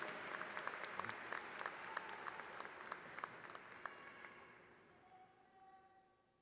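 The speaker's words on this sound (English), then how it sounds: "Let's give another round of applause to our Grimsley chorus." A graduation ceremony audience applauds the high school chorus with sharp, overlapping claps, heard from a distance, that gradually thin out and fade over several seconds.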